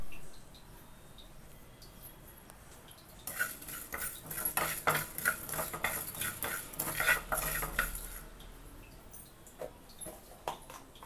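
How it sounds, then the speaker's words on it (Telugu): Coriander seeds dry-roast in a pan over a low flame, with a quiet start followed by several seconds of rapid rattling and scraping as a spoon stirs them, fading back to faint clinks. "ధనియాలు వేసి ఇది కూడా సిమ్లో పెట్టుకొని వేయించుకోండి."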